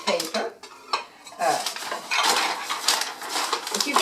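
Dishes clink and rattle against each other while being wrapped in packing paper, with paper rustling between short, close, irregular bursts of ceramic clatter.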